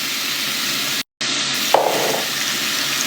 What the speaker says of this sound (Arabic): حطيت الزيت وراح أضيف الدجاج بالتتبيلة حقته